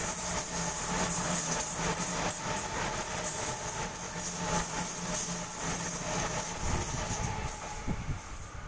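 A Sydney Waratah train runs through Croydon station out of service, a steady loud rumble of wheels and carriages with rhythmic rail clatter sounding throughout, no voices over it.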